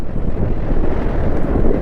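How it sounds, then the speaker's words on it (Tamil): Strong wind buffeting the microphone at Pillar Sky Pass, a high mountain pass in the Zaskar Range at 12,198 ft, a loud continuous low roar with no voices. "ஐயோ செம்ம காற்றுங்க."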